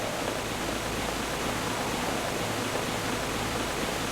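Steady, unbroken rush of a waterfall from the video game Mizzurna Falls, a dense hiss of falling water that holds the same even level throughout, with no voices over it.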